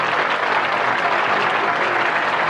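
Teen audience clapping for a student's biology grade, a loud, close, continuous burst of group applause that fills the whole short stretch with no voices on top.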